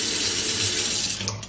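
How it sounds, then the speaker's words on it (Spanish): Kitchen sink faucet running a steady stream of water into the sink, a close, even hiss and splash that continues throughout and tapers slightly at the end, with no talking. "Está muy padre porque tiene regadera. Y también tiene un chorro de agua normal."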